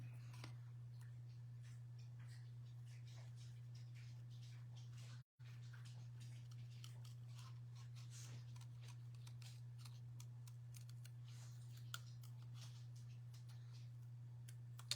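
Scissors snip around a stamped paper image, small quiet cuts ticking irregularly over a constant low hum, close and faint, with a brief dropout partway through and no speech.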